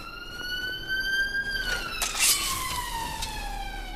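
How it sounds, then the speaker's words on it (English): A loud emergency siren wails past a home near a hospital, its rising and falling tone sliding downward as it goes by, with no voices. "I just had a loud siren go past"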